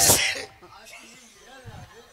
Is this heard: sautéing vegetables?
no